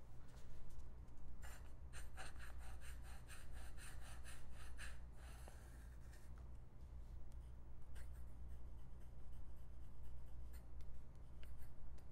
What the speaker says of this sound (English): let's do the ruling nib and lay down some more ink